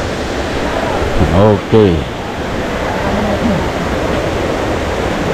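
A waterfall at Dingalan, Aurora gives off a constant, full hiss of rushing water, with a few brief spoken words over it partway through.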